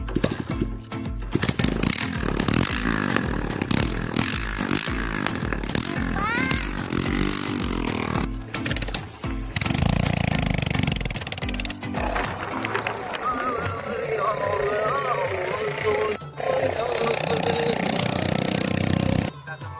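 Motorcycle engine with a broken silencer, rough and loud with harsh, raspy revving that rises and falls, cuts out briefly and returns, heard up close with some talk mixed in.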